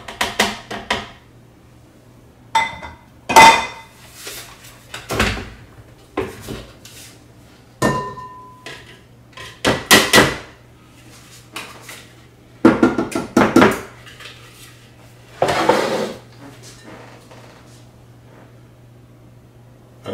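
A mixture for raspberry scones is emptied into a bowl, with a series of loud, close clatters and knocks of bowls and dishes separated by short quiet gaps, and no talking.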